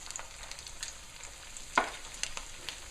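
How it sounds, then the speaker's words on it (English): Salmon potato latkes fry in hot oil, sizzling steadily at a low level, with occasional louder crackles and one sharp pop partway through. "I'm just going to give them another quick fry so that they brown"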